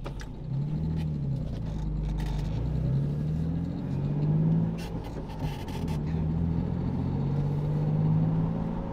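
A Nissan V35 Skyline fitted with an upgraded big-bore throttle body cruises at low speed, its engine giving a steady interior rumble with gentle rises in revs and no talking.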